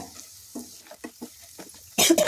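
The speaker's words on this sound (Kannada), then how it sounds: "ಆ ಸಕ್ಕರೆ ಸ್ವಲ್ಪ ಚೆನ್ನಾಗಿ ಫ್ರೈ ಆಗ್ಲತ್ತು ನೋಡಿರಿ" Sugar frying in a pan for spicy North Karnataka puffed rice chivda, heard as a few soft, separate scraping stirs over faint sizzle, then a louder burst of crackling near the end, close up.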